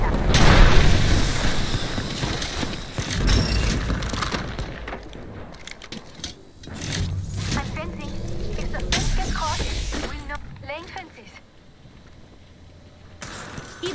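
Bursts of gunfire in an Apex Legends match crackle and boom in scattered volleys, loud at first and then more distant, under a player's running talk.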